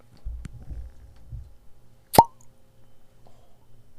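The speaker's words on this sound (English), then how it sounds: "Cork pop." A cork pops from a bottle of rum in a single sharp, close pop, after low murmuring voices in a quiet room.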